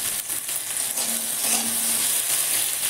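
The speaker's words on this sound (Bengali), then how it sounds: "তো আমার টমেটো মটরশুঁটি ভাজা হয়ে গেছে।" Tomato and green peas frying in a pan over low gas heat, a continuous close hiss and sizzle with light stirring scrapes and no voices.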